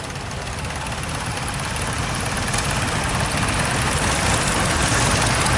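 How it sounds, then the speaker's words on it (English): A Nuffield 342 tractor with a three-cylinder, 42-horsepower engine idles at a country fair, a steady low rumble holding evenly throughout with no voices over it. "3-cylinder engine, 42 horsepower."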